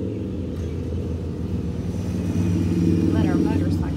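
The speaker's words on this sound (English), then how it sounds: "Let our motorcycle go by" A motorcycle rumbles past a home garden, its engine a loud, continuous drone that swells slightly as it nears, with a faint chirp near the end.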